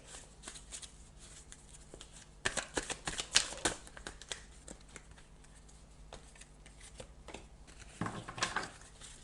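Tarot cards are shuffled by hand for a French Aries monthly reading. The quiet, papery riffles and taps come in irregular bursts, close by, with no talk.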